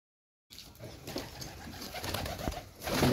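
Pigeons coo softly at a nesting spot where a white domestic pigeon is feeding its chicks, a low continuous murmur of calls with faint rustling and no clear talk.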